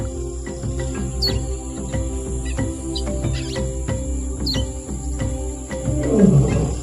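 A lion roars low and rumbling near the end, over a busy wild backdrop of chirping birds, buzzing insects and scattered clicks.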